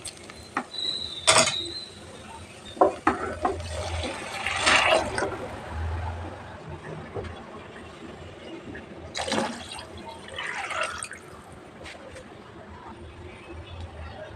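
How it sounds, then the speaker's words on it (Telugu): Water pours into a pot of biryani rice with gurgling splashes and creaks of handling, moderately close, coming in a few bursts over a quiet background hum. "2 గ్లాసుల రైస్కి 5 గ్లాసులు వాటర్ వేస్తున్నాను"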